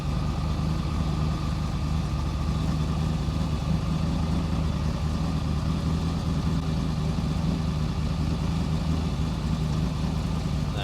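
A 1968 Beaumont pro street racer's engine idles steadily with a deep, even rumble, close and continuous with no talk over it.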